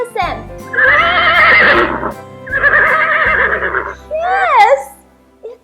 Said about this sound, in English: What is the sound of a horse?